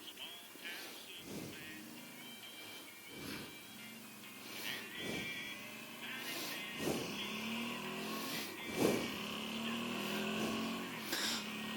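A motorcycle being ridden on the road, with a steady engine drone and repeated rising and falling surges as the rider shifts through gears, heard close and moderately loud throughout.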